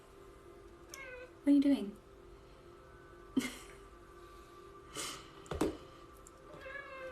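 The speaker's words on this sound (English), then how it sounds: "That's my cat. She loves to do this." A pet cat meows close by, several short cries spread out and separated by pauses, with a person speaking quietly in between.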